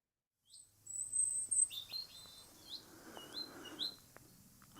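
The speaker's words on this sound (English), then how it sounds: "listening to birdsong" Wild birds singing on Dartmoor on a sunny February day beside an old hillside track, with thin high chirps and short trills repeating over several seconds. The birdsong is faint and distant over quiet outdoor ambience, with no voices.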